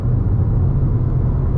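Tuned BMW G87 M2 running an M2CS tune, accelerating hard and heard from inside as a loud, dense, continuous low engine rumble with no pauses.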